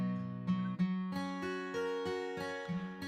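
Fingerstyle guitar MIDI sample with the string selectors removed, a steady run of plucked guitar notes struck roughly every third of a second, each ringing bright over the previous ones.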